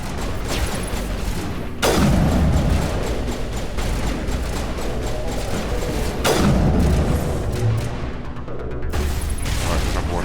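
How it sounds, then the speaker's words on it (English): Sniper rifle shots in the Mass Effect Legendary Edition video game: two loud, booming reports a few seconds apart, each with a long rumbling tail over steady background game sound and music. "let's try this sniper rifle"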